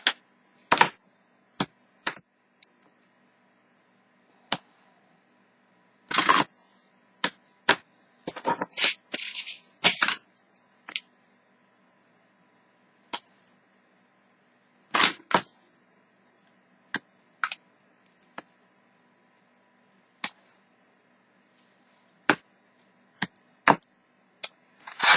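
Strips of tear-and-tape being pulled and pressed onto a 6x6 paper storage box, heard as scattered sharp tearing and tapping bursts with silent gaps between them, with no voices.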